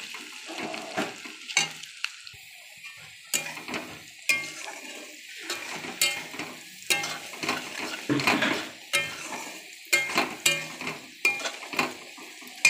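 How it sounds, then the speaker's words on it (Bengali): Onions frying with a little salt in a pan while making mutton biryani, with a soft sizzle under repeated scraping and clinking of a metal spatula against the pan in irregular bursts, fairly close, no talk. "এর মধ্যে হালকা করে একটু লবণ দিয়ে দিলাম, পেঁয়াজটা তাড়াতাড়ি ভেজে যাবে।"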